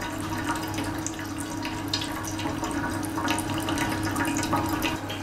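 A steady stream of liquid flows from a 3 kW continuous alcohol stripping still running on a sugar-based wash, a constant watery trickle over a low, even equipment hum.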